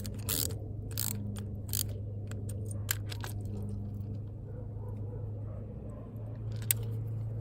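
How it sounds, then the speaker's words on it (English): Terminal screws on a replacement wall outlet are driven tight with a screwdriver, giving a few faint scraping clicks and ratchet-like ticks early on over a steady low hum, then near quiet. "you just tighten the screws around them, on all of them"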